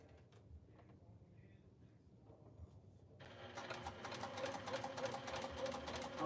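A sewing machine stitches fabric in a steady rapid whir that starts partway through after a quiet stretch, close and continuous to the end.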